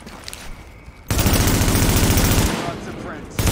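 Heavy automatic gunfire erupts in Tom Clancy's The Division multiplayer firefight in Manhattan, a loud sustained burst of rapid shots after a quieter lead-in, with a voice faintly underneath.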